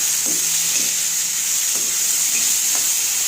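Okra is fried in a pan with turmeric and coriander, giving a constant hissing sizzle punctuated by several distinct stirring scrapes spaced about half a second to a second apart.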